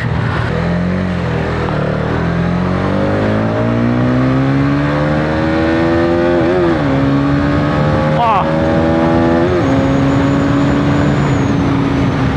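Hero Karizma XMR Combat Edition motorcycle accelerating hard at high speed, its engine note climbing steadily through several gear changes with wind roar, while a rider talks over it.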